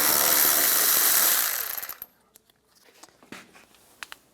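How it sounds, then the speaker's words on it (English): A power driver fitted with a T30 socket whirs loudly for over a second while removing bumper screws on a 2015-2019 Lincoln MKC, then spins down into scattered metallic clinks and small knocks nearby. "Now I'm going to take a T30 socket, and we're going to take these screws out."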